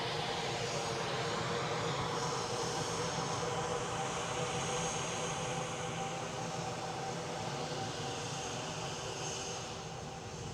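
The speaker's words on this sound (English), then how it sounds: "We've got a British Airways A350 with a One World sticker on it. Will be taxiing past us shortly." A British Airways Airbus A350 jet taxiing at Edinburgh airport, its engines giving a steady, broad whine and rumble that hold constant throughout, moderately loud and distant-to-mid range, with no talk.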